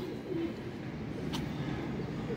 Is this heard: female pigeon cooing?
yes